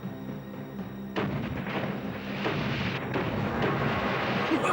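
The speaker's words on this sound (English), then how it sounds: "Sandokan, I think they've spotted us, and what's worse, they've started shooting at us." Cannons fire at a ship at sea in an animated pirate adventure, heavy booming blasts that roll into a continuous rumbling roar, loud and sustained with no voices over them.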